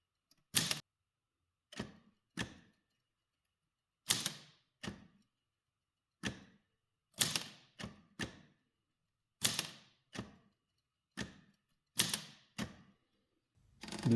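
An Olivetti Linea 98 office typewriter, with a dozen or so crisp, separate key strikes and spacebar clunks coming at an uneven pace, close and clear against a silent background.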